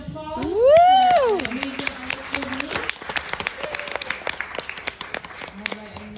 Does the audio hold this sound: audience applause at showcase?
yes